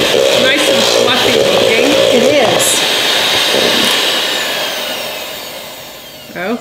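An electric hand mixer whirs loudly, blending the ingredients for coconut cream eggs in a kitchen, its motor pitch wavering as it works, then fading toward the end while people talk over it.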